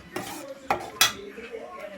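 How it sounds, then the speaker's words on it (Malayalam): A spoon stirring ginger curry with curry leaves in a metal pot, a few sharp clinks and scrapes against the pot over a quiet background. "നമുക്ക് 2-3 കരിയാപ്പില ഇട്ട് കൊടുക്കാം. ഇളക്കി കൊടുക്കാം കേട്ടോ."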